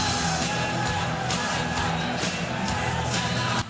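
A home darts crowd sings and cheers along to Robert Thornton's walk-on music, a dense, steady roar of many voices with yells and whoops over loud music for the whole stretch.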